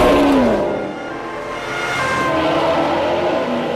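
A car revs and accelerates hard with a police car in pursuit, the engine loud and close and rising in pitch before settling into a sustained roar.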